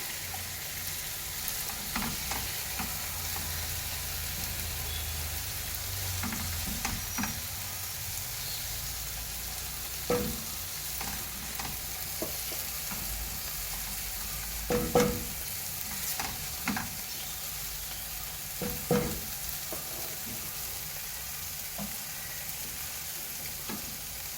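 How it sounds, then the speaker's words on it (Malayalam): Mussel masala is stirred into semolina in a hot pan for a mussel biryani, the continuous sizzle broken by scraping stirring strokes at irregular intervals, close and alone. "ഇനി നമുക്ക് കല്ലുമ്മക്കായുടെ മസാല ഇതിലേക്ക് ഇട്ടെടുക്കാം."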